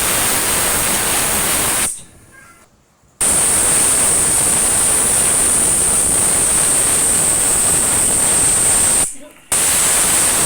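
A pressure cooker cooking masoor dal lets off loud, steady hissing steam whistles up close, broken by two short pauses before the jet resumes.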